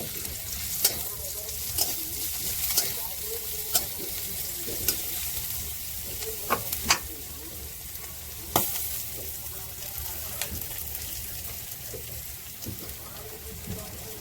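Garlic fries in oil in a pan, sizzling steadily for a long stretch, while a utensil stirs it with repeated scraping clinks. Home cooking in Bangladesh, heard at a moderate distance.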